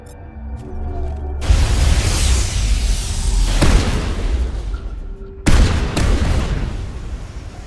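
Loud, dense gunfire and explosive booms fill a Mass Effect firefight against Geth, with heavy sustained bursts punctuated by a few sharp blasts close at hand.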